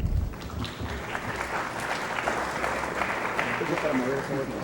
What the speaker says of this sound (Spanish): Le pido lo recibamos con un aplauso